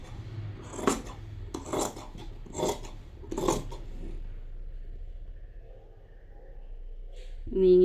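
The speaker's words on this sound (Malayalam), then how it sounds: "നമുക്ക് ഈ മാർക്കിങ് കട്ട് ചെയ്തെടുക്കാം." Scissors cutting along marked lines through a light, flowy fabric for loose pants, four distinct rasping snips in steady rhythm, close and moderate, then a quieter stretch before a sudden louder noise at the end.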